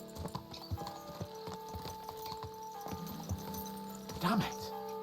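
Horse hooves clip-clop at a quick, regular pace in the medieval game Kingdom Come Deliverance 2, layered under game music and voices, with a brief whinny near the end.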